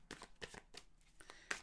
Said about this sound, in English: Okay, had a good shuffle.